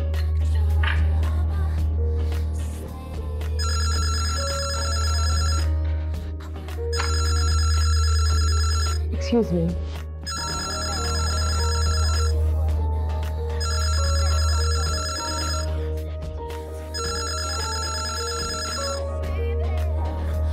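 A telephone rings repeatedly in bursts of electronic trilling, spaced at steady intervals over background music in a Pakistani TV drama, with a brief spoken line partway through.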